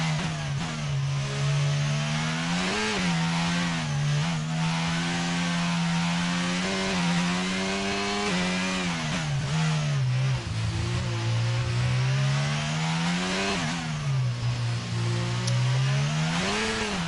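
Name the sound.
racing car revving, heavy on the throttle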